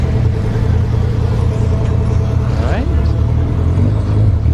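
A C6 Corvette drag car with radials idling at the start line of a no-prep drag race at Orlando Speed World, a loud deep engine rumble with a brief rising rev midway, while someone talks briefly over it.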